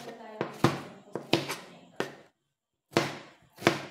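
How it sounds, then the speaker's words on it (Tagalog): Knife chopping onion on a cutting board in a home kitchen: a handful of sharp, close taps in quick pairs and threes, separated by a brief silent gap. "sinunod ko na rin pong hiwain yung sibuyas"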